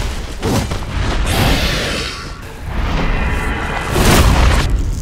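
Dark Hand weapon art in Dark Souls sets off a series of loud, booming dark-magic bursts, with three heavy rumbling surges swelling and fading across the span with no talking.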